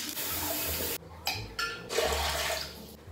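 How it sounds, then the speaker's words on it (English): Hot water gushing from a tap while a pipe is washed at home, a loud steady broadband rush with brief interruptions as the flow shifts or is blocked, then resuming close by. "The real reason why I wash my pipe here is because I need hot water."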